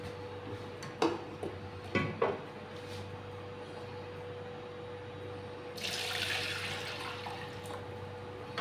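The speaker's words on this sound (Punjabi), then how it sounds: "ਸਾਰੀ ਦਾਲ ਆਪਾਂ ਵਿੱਚ ਪਾ ਦਾਂਗੇ" Soaked moong dal tips into a cooking pot with a few soft wet splashes at the start. A steady rushing, water-like pour follows later, close and without talk.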